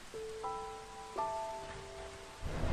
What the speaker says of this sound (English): It's raining really hard. It's incredibly loud as well.